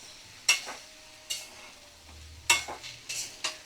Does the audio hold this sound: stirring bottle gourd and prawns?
yes